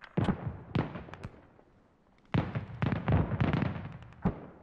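Artillery barrage firing in the Squad combat video game: a rapid series of heavy booming blasts in two clusters, a few separate shots and then a dense volley, each loud, with short decays.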